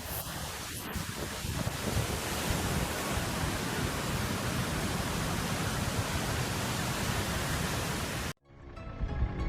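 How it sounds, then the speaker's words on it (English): Water from a waterfall pours straight across a mountain road, a loud, steady broadband roar of rushing water that runs unbroken for about eight seconds before cutting off abruptly. "a waterfall cascades directly over it, transforming the roadway into a rushing stream"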